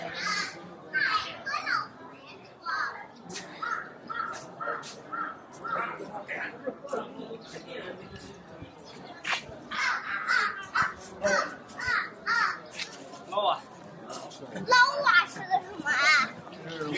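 Crows caw in repeated harsh calls, spread across the scene at moderate distance, mixed with children playing and people chatting nearby.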